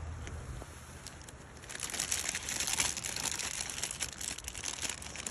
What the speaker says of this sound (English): The crinkling.